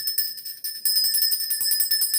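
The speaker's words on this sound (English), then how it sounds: "I'm finna ring my bell" A small bell rings with a bright, sustained metallic tone, struck again partway through so the shimmer swells, heard alone and close.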